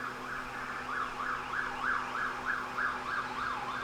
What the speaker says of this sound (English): there's a cop going by.